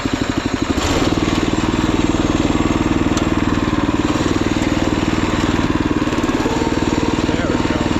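A Predator engine swapped into a Wheel Horse garden tractor runs at a steady, loud chugging pace with a rhythmic pulse after a brief change in tone near the start, close by and continuous throughout.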